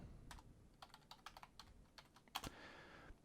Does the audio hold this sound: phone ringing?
no